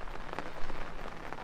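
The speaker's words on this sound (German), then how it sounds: "Hört ihr es? Es regnet stärker." Heavier rain falls steadily during a fishing outing, a dense close patter of drops hitting surfaces with small irregular splashes in a short burst, and no voices.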